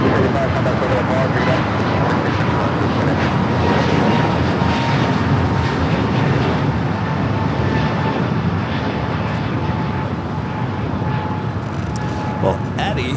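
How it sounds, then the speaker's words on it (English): Singapore Airlines Airbus A350-900 arriving at Los Angeles International Airport, a loud sustained jet roar filling the whole stretch, with people talking over it. "Singapore coming in from Singapore, the A350-900 arriving there on the north side."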